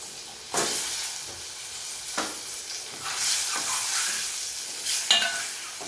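Eggs frying in oil seasoned with chili powder, turmeric and garam masala, giving a steady soft sizzle broken by several sharp bursts of stirring and scraping in the pan.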